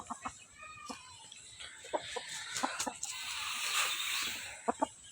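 A gold straight-comb rooster and other chickens cluck in short, scattered bursts at close to middle range, quiet and irregular, with a person talking intermittently among them.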